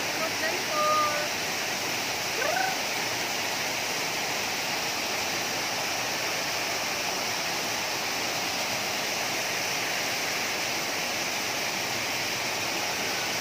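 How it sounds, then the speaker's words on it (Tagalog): Tinubdan waterfall in Catmon, Cebu, a steady broadband rush of falling water that holds evenly throughout, with faint voices and a couple of brief sounds near the start. "kami di Tinubdan Waterfalls"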